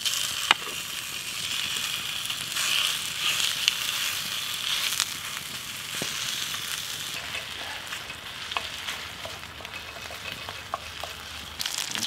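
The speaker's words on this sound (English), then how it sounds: "I've already got a tiny bit of oil in there, but I'm just going to put in the sausage meat" Sausage meat sizzles steadily in a little oil in a kazan cooking pot, a continuous bright frying hiss with occasional small pops and stirring clicks, close and loud.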